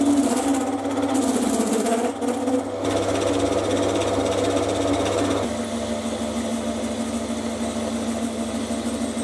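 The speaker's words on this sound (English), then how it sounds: "it really wanted to chatter." A metal lathe turning a long part with a lot of stick-out, supported by a live center, makes a steady machining drone with a harsh chattering buzz. The tone shifts partway through as it runs continuously and alone.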